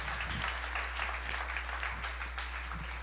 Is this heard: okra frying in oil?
no